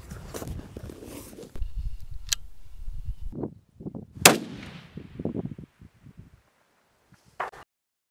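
A 7mm long range rifle fires cold bore shots at a 1,000-yard target: a sharp, loud report stands out amid handling and shuffling noises, with a fainter second crack near the end.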